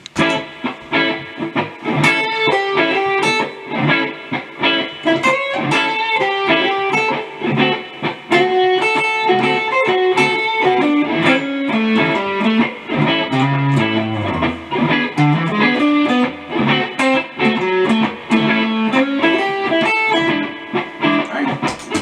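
An electric guitar plays a 12-bar blues, picking out chord tones in a flowing melodic line of distinct plucked notes with slight effects, steady and clear for the whole passage without talk.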